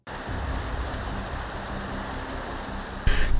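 Heavy night rain in Chennai pouring down as a dense, steady hiss, close and loud, with a sudden louder surge near the end.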